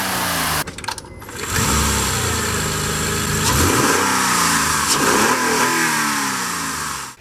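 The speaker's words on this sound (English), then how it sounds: "now we'll have a listen to the startup sound" A Honda Accord Hybrid engine cranks and fires up after a brief starter burst, then settles into a steady, loud idle with a faint whine, close to the mic with no talking.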